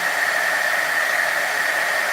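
An embossing heat tool blows a loud, steady, close hiss of hot air while melting embossing powder, with no talking.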